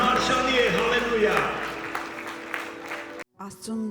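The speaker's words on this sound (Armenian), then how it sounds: "Եկեք բարձր ծափանենք Տիրոջը" Congregation clapping at an Easter church service, with voices and tonal singing or music layered over the clapping, then a brief cut before the sound resumes.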